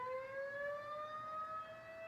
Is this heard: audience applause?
no